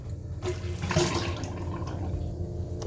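Water runs from a new faucet in a 1977 Sunline camper. It makes a steady, close hiss and splash that continues without a break and has no voices over it.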